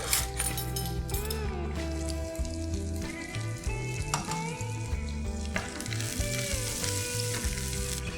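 Mustard seeds and coriander hiss and sizzle in hot oil, the crackling steady and close beneath background music.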